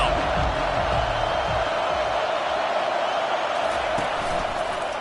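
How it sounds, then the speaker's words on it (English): At a Tulane versus Iowa college football game, a packed stadium crowd on third down gives off a dense, steady roar, while a commentator talks over it. "Decibels rising as the crowd gets behind this defense on 3rd down."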